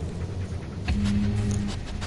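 Dog panting in the horror game Blair Witch, a close, steady breathing rhythm with a brief whimper partway through, set against low ambient forest tones.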